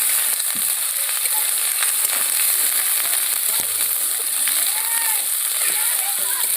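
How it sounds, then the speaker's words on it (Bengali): Ginger garlic paste hitting onions fried until reddish-brown, giving a steady loud sizzle and spatter with faint stirring throughout, no pause in the frying noise. "পেঁয়াজটা লাল লাল ভাজা হয়ে গেছে। এবার আদা রসুন বাটাটা দিয়ে দিলাম।"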